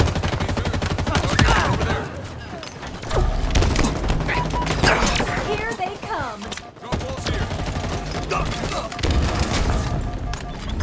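Dense gunfire from the Halo Infinite multiplayer game, with bursts of automatic weapon fire and shots mixed with loud game music and effects. A game announcer voice speaks over the steady barrage.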